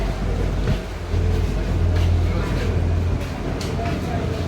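A low, constant engine drone fills an air-conditioned Kochi Water Metro ferry cabin, steady from start to end, with murmured voices faintly underneath.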